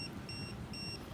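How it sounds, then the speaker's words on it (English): A voltage alarm inside an RC pusher airplane built from EPS foam sounds two short, high, thin beeps in quick succession over a low, steady background hum. "you must be noticing the beeping sound. It's a voltage alarm sensor that I put inside"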